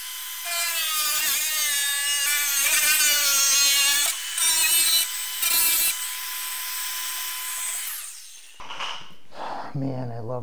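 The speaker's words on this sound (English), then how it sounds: "Love that Milwaukee 4-inch grinder." A Milwaukee 4-inch angle grinder cuts through plastic on a snowblower track-to-tire conversion, a close, loud high-pitched whine that dips and stutters in several bursts before winding down, followed by a short spoken remark.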